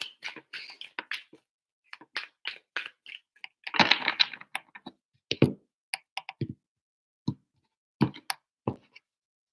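Sharp, papery clicks and riffles of tarot cards being shuffled in short irregular bursts, close and alone with quiet gaps between.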